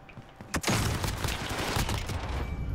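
Gunfire in a shooter video game: a sharp loud shot followed by a dense, continuous rattle of rapid firing and bursts, close and sustained to the end.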